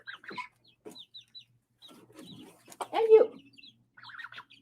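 A chicken clucks in short, scattered bursts, with a louder squawk near the middle and softer chirps between. It is close and clear in an otherwise quiet room, and a person speaks softly alongside it.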